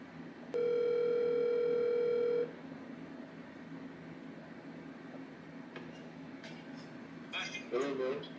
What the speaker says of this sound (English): Let me call my dad.